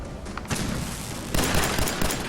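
A pulse grenade goes off in the Fallout 4 video game with a sharp burst, followed by a second louder crackling blast amid gunfire-like noise, close and loud.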